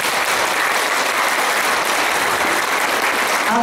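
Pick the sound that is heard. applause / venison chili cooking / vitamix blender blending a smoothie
applause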